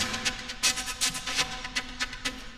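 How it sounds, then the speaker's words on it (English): Air blown across the open top of a saxophone with the mouthpiece removed, making soft breathy hollow pulses repeated in an uneven drumming rhythm, close and alone. "So I'm just blowing across the top of the sax with no mouthpiece."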